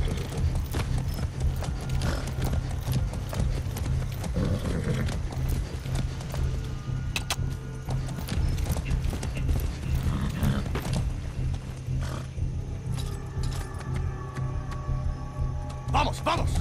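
Hooves clip-clop steadily in Far Cry 6 over a dense, busy mix of creaks and mechanical noise, with a horse whinnying now and then and voices in the background.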